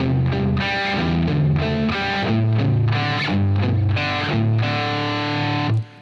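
A distorted electric guitar plays a chordal rhythm part from a song's pre-chorus, steady strummed chords ringing loud and sustained before stopping at the end.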